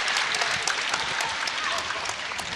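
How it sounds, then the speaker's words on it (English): A crowd at the World Wushu Championships applauds and cheers after Team China's creative group taolu performance, a loud, dense wash of clapping that carries on steadily from start to finish. "Judging by the cheers of the crowd,"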